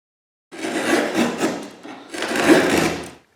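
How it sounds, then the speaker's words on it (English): A fret saw cuts wood in a violin workshop in Cremona, two long rasping bursts of sawing with a short pause between, close and loud. "This one instead is a fret saw, which I would use mainly to cut the F-holes"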